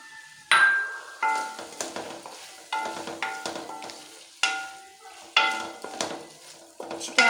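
Stirring coarse roasted ground spice masala into goat liver karahi, a spoon scraping and clinking against the wok in a series of sharp strikes, each followed by a short sizzle, at close range.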